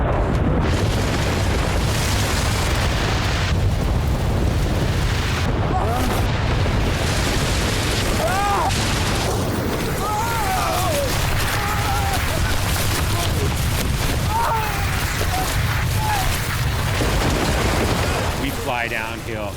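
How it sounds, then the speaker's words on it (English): A deep avalanche rumble carries booming, explosive bursts and cracking over steady low roaring, with people talking throughout. "There's a sickening, cracking rumble,"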